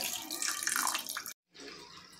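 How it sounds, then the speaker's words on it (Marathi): Basmati rice being washed in water, a short close splashing swish that cuts to silence briefly, then resumes more softly. "त्याच्यामध्ये आपण पाणी टाकून स्वच्छ धुवून घेऊयात"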